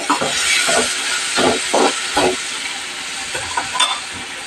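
Salted chicken keema stirred in a hot pan, a steady close sizzle and hiss broken by several soft scraping strokes of the spoon, with no talking.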